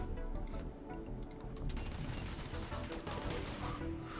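Gunfire in the video game Rimworld (Alpha 8) crackles in rapid, continuous bursts like a firefight, dense and loud throughout with no talking.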